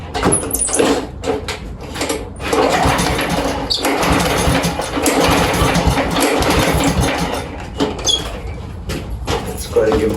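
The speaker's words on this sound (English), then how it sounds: "I already sprayed a little bit of starting fluid in the air filter box, so we're gonna go ahead and try and start it" A small engine on used outdoor power equipment, choked and primed with starting fluid in the air filter box, cranks in repeated bursts with brief sputters and pauses, close up, while a person talks.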